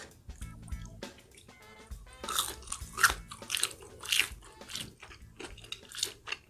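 Crunchy breaded mozzarella cheese sticks bitten and chewed up close, with several loud crisp crunches spread across the bites and wet chewing between them, and no talking.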